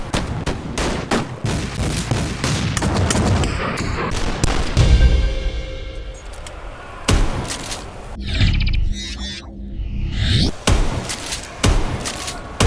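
Shotguns fire in Call of Duty Black Ops 4, with loud booming blasts repeated in irregular bursts, separated by mechanical reload clacks and brief quieter gaps.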